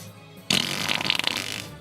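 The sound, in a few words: fart sound effect played from a button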